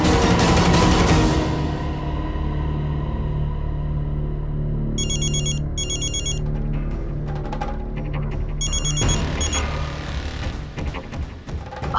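A telephone rings in two electronic bursts partway through, riding over a dense, loud bed of dramatic background music in a Hindi TV serial scene.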